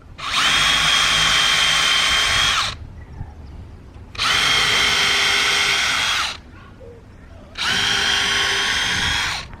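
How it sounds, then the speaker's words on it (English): A power drill pre-drills screw holes in wood for a window box, running in three long, loud, steady whirring bursts of about two seconds each, separated by short pauses. "I'm going to drill holes where the screws are going to go"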